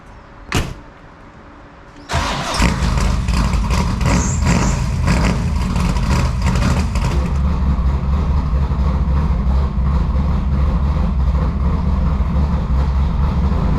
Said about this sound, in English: I'll move this car back in the garage